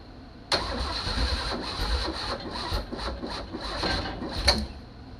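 A Chevrolet Biscayne's starter cranks the engine with a sudden start into a steady, rough, chugging churn that runs for several seconds, close up and without catching, over a constant high whine.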